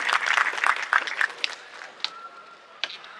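A crowd at the Rise in India 2023 exhibition claps to welcome guest speaker Dr. Anil Agrawal, with dense clapping at first that thins into a few scattered claps.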